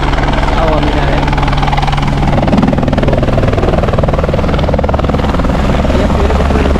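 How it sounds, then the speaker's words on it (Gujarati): Helicopter flying near Kedarnath temple in the Himalayas, its steady rotor drone loud and continuous throughout, with people talking underneath and a low engine hum. "હવે હેલિકોપ્ટર તમે સરું એક જાય ને એક આવે, એક જાય ને એક આવે"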